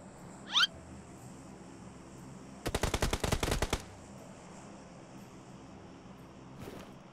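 A quick burst of automatic gunfire in PUBG Mobile, about a dozen sharp evenly spaced shots over one second, fairly loud against quiet game ambience, with a brief squeak before and a single faint thump after.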